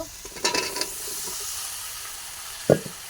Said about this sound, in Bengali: এখন এই যে লাউটা দিয়ে দিব